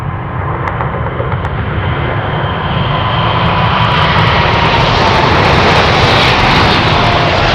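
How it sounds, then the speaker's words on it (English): Boeing 747 taking off fully loaded from runway 33 at Anchorage airport in Alaska, a loud, steady jet engine roar that builds slightly and holds without break, no voices. "Take in the 7-4 takeoff"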